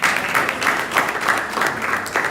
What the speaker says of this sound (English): you clap for him.